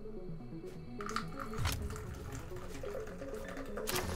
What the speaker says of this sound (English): Pouring myself a Red Bull